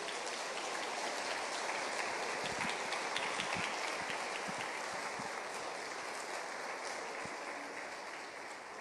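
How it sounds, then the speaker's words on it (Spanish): A church congregation applauding after a sermon, with dense sustained clapping like rain that holds steady for several seconds and then slowly fades, with no talk. "Dale un aplauso al Señor,"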